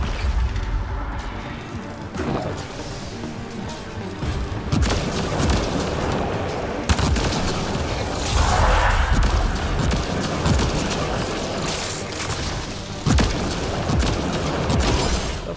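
Dense video game combat in Mass Effect: Andromeda, with continuous loud gunfire, booms and crashing impacts layered over a steady roar, no clear speech.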